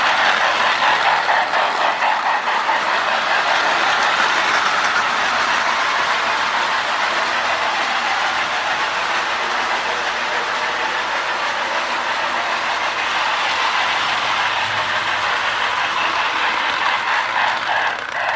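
A Marx toy locomotive runs steadily on its track, giving a continuous close whirring rattle with faint clicking that stays even and unbroken throughout.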